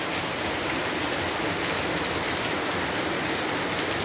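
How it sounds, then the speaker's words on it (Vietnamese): Heavy rain pours steadily in a countryside village, a dense, constant hiss with no pauses and no voices. "Mưa tầm tạ."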